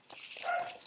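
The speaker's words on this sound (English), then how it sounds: "I apologize for the dogs barking in the background." Dogs bark faintly in the background indoors, a brief muffled burst of yaps with no speech over it.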